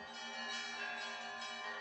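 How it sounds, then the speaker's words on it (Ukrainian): Church bells of Kyiv churches peal continuously over the Dnipro hills in a dense, ringing wash of overlapping tones, steady and moderately loud throughout, with no voices. "над Дніпровськими схилами залунав церковний передзвін"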